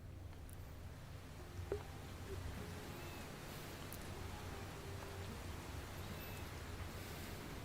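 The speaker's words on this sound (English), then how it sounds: "Still raining super hard." Steady, dense hiss of heavy rain falling outside, continuous and even, with a faint thump early on and no one talking.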